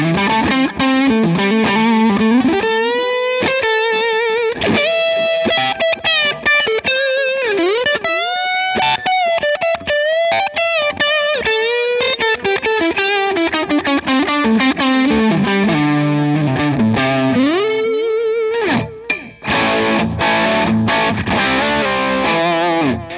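Electric guitar through a Line 6 Helix using a Matchstick amp model, played on the neck pickup with the dry switch on: a distorted, effects-laden melodic line with sustained notes and quick runs, loud and alone.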